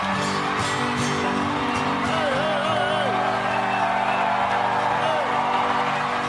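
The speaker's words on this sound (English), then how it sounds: "This is a rowdy crowd." A rowdy crowd at the White House whoops and cheers loudly and continuously, with voices of people talking mixed into the steady roar throughout.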